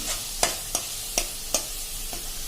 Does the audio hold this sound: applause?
no